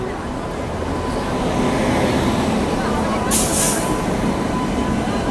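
The Udyan Express (11301) rolls into a station, a loud, steady rumble of rail cars with a brief bright squeal of wheels near the middle.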